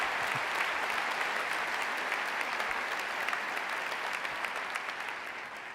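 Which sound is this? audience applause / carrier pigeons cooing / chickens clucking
audience applause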